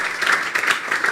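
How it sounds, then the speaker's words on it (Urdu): A congregation claps loudly during a church sermon, dense rhythmic applause with pulsing bursts throughout. "میں چاہتا ہوں ان ڈسائپلز کے لیے بھی ہم زوردار تالیاں بجائیں جو یسوع پر ایمان رکھتے تھے"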